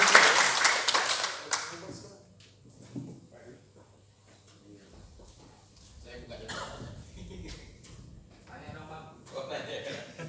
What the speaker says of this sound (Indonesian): Kita beri tepuk tangan buat